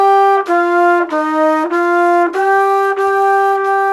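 A woodwind or brass instrument holds steady sustained notes in tune, clear harmonic tones in four or five phrases separated by short breath gaps, close and fairly loud with no talking.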